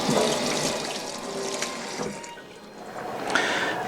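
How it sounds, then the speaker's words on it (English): Tap water runs steadily over raw packaged pork chops being rinsed in a kitchen sink, a close continuous splashing stream with small surges and no voices. "you'll probably want to rinse these off to get all the packaged preservative crap off of them"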